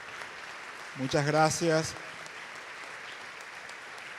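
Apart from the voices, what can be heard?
audience applause at a congress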